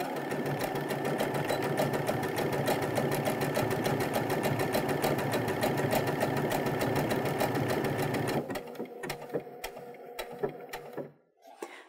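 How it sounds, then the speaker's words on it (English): Baby Lock Brilliant sewing machine stitching a large decorative stitch, a fast continuous mechanical whirr that runs close and steady for about eight seconds, then slows into scattered clicks and a few separate needle strokes before stopping. "we'll stitch another so you can see the difference."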